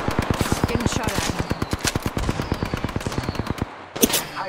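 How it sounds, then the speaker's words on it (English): Rapid enemy gunfire in a video game: a long, steady burst of automatic shots in an even rhythm, loud and close, that stops near the end before one last sharp crack. "I am taking fire."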